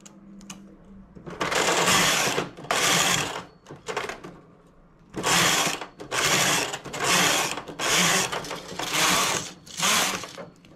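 A knitting machine carriage swishes back and forth across the needle bed while working a lace round neckline, giving a series of loud, evenly paced sweeping passes separated by short pauses, with no talk.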